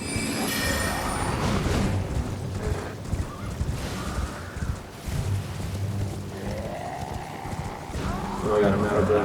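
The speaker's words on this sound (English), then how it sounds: "These horses are allied against my enemies." Horses gallop and neigh in the fantasy game Elden Ring, with hoofbeats clattering steadily and a whinny cutting through near the end, amid combat noise and a person talking over the action.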